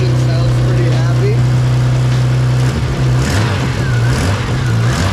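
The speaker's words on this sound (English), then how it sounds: "Engine sounds pretty happy." A BMW E30 with an S38 engine runs at a steady idle, a loud low droning hum that shifts slightly partway through, heard close with no talking.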